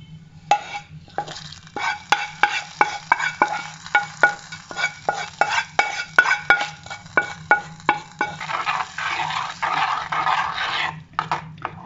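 Fried grated coconut being stirred into a Kerala-style pachadi with ash gourd in a pan, a steady run of sharp spoon scrapes and taps over a soft sizzle, close and clear with no talking.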